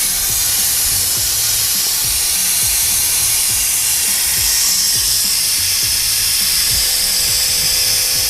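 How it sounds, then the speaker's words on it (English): Brake fluid drawn out through the bleeder nipple of a big-turbo BMW 135i during a fluid flush, a steady close hissing, sucking rush with faint clicks underneath, no talking. "So you can see that fluid being sucked through right now, out through the bottom."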